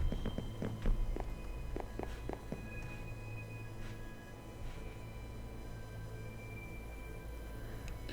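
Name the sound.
footsteps in a house in the video game Minecraft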